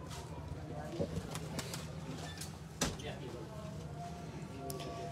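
Breeder Taddy pigeons coo softly on a rooftop in low, repeated murmurs beneath a steady background hum, with a few faint clicks and scuffs.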